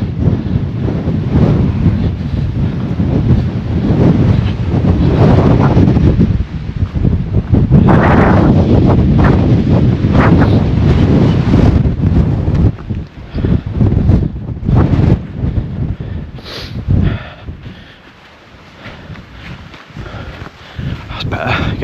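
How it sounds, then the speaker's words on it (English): Strong wind buffets the microphone on an exposed winter hill walk in the Peak District, a loud, steady roar with gusts that dips briefly near the end, while people talk under it. "Get out of the wind."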